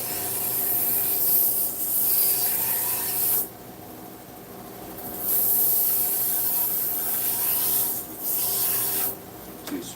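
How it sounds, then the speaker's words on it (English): A knife edge is drawn across a sharpener in a few long abrasive swipes to remove the burr and set an apex bevel. One long stroke is followed by two shorter ones, each a close, steady rasp over a low background hum. "Two swipes to cut the burr and put an apex bevel on."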